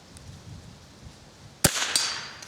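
A single sharp crack from a Marlin XT-22 .22 rifle during outdoor target shooting, fired at a rabbit. It comes after quiet ambience and is followed by a brief ringing tail and a fainter second snap.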